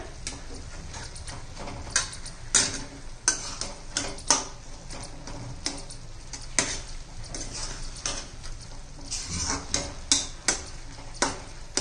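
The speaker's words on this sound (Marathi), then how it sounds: "आता बेसन पीठ व्यवस्थित मिक्स करून घेऊया" Besan flour stirred into dill greens in a pan, a soft scraping and scuffing of a spatula with irregular clicks and taps against the metal, fairly quiet throughout.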